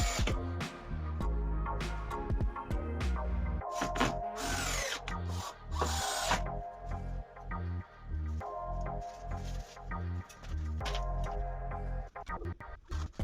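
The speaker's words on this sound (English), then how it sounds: "Then I fasten them with self-tapping screws." A power drill drives self-tapping screws into wooden shed boards, with bursts of motor whine and screw grinding between clicks, knocks and handling noises on the timber, all close and without speech.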